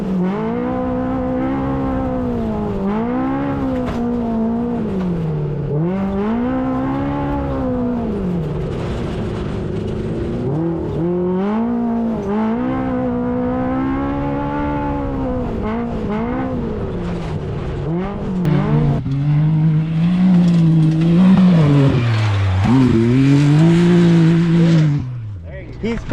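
A Baja race car running practice laps on a 4-mile track, its engine note rising and falling steadily through gear changes as it revs, loud and close throughout, with a harsher surge near the end.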